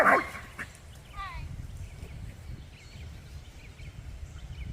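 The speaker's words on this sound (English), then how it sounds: "You gotta love it when the dogs start arguing." A loud burst of dogs barking and yelping at the start, then a brief whine, fading into outdoor rumble near a horse barn in Kentucky with quieter distant yips.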